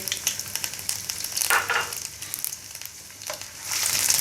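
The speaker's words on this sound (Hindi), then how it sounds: "ये जो जिंजर गार्लिक को मैंने चॉप किया हुआ है ये मैं ऐड करूँगा। इसको थोड़ा सा सौते करके" Chopped ginger and garlic sauté in a pan for a mixed vegetable dish, making a loud, close crackling sizzle broken by bursts of stirring scrapes, and no one speaks.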